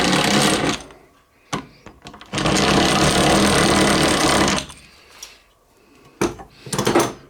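A drill bores holes in a bronze main bearing for a Harker steam engine restoration, loud whirring bursts of about two seconds alternating with pauses and short spin-ups.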